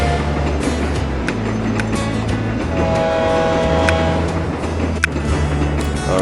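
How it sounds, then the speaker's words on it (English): Trains rolling into a station in the mobile game TrainStation 2, a steady mechanical rumble with layered horn-like tones and a brief sharp click near the end, with no talk over it. "Alright, trains are back, bringing back the gold."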